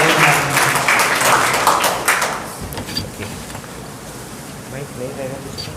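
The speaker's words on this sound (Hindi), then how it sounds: "हम स्वागत करें ताली बजा के" Seminar audience claps to welcome a pastor at a Hindi-Gujarati youth seminar, with dense applause strongest in the first two seconds and then thinning to scattered claps under room noise.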